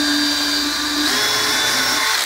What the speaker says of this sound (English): And that's where I'm gonna drill.